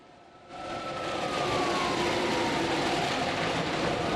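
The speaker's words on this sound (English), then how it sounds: "What you're hearing is the undercarriage of that big rig dragging along the freeway" Loud grinding, scraping roar of a stolen big rig's undercarriage dragging along freeway pavement during a police chase swells up and holds steady, with a falling whine sliding down over the noise.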